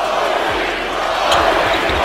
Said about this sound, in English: The Lakers crowd is chanting Kobe's name.